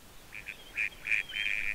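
Cartoonish duck quacking in the trivia video game You Don't Know Jack, a series of short nasal quacks, two quick then three longer ones, fairly faint and clear with no talk.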